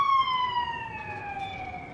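An emergency vehicle siren sounds close and clear, a steady tone that slowly glides downward as it passes, ringing over faint background rumble with no speech.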